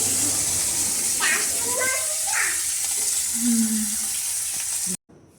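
Catla fish frying in a pan at home while rice cooks nearby, a steady close sizzle of oil with faint stirring and soft voices and household sounds over it, cut off abruptly near the end.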